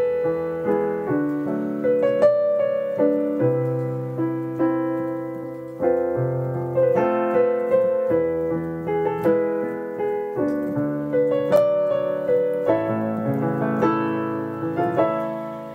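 Theme melody from the Doctor Who: The Edge of Time soundtrack, an otherworldly synth-orchestral line carried over sustained chords, playing steadily and close throughout with rhythmic note attacks and no talking.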